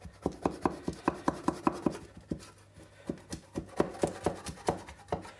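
A knife runs around the edge of a pan to loosen a baked chestnut cake, making quick rhythmic scraping strokes, then a short pause before a second burst of scrapes.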